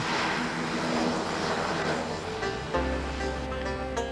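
A small propeller aircraft flies between the Orkney islands, its engine a steady, loud droning hum that shifts slightly near the end, no talking.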